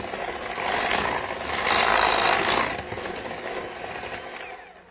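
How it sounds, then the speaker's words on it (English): An electric hand mixer whirs steadily with its beaters churning through thick chocolate cookie batter, a continuous close mechanical hum that swells and eases as the bowl is worked, with no talking. "we're going to beat this in until the chocolate is fully absorbed"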